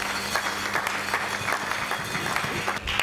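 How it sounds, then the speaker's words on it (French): Church congregation applauding loudly in praise of the Lord during a sermon, a dense steady patter of clapping from a large crowd with a low sustained hum underneath, continuous for a few seconds. "Nous acclamons très fort pour le Seigneur"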